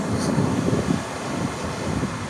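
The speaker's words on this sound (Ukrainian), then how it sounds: "Зараз якраз почав віяти вітер." Steady wind rushes and buffets the microphone near Vienna, a continuous low roar with gusty swells and no voices.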